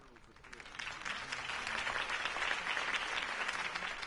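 A crowd at a city campaign rally claps for a candidate's speech, starting quietly and swelling into sustained, moderately loud applause, with a voice audible early on.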